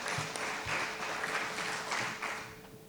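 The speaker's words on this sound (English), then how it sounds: "I would like you to applaud all of those who helped us in achieving that" Brief applause from a conference audience at a climate and solar energy session: a soft, fairly distant wash of many hands clapping that thins out toward the end.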